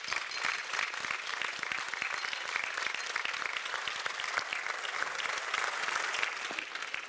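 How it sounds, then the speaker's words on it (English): Graduation ceremony audience applauding AgriSciences graduates, a dense, steady wash of clapping from a large crowd, fairly distant and even throughout. "Let's just start applauding them right off the bat."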